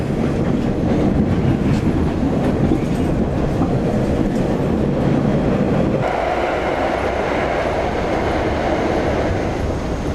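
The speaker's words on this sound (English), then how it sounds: "There's the MBT train I saw earlier." An MBTA train rolls past on the rails with a loud, steady rumble and wheel clatter. The tone shifts partway through as the cars go by, and no voices are heard.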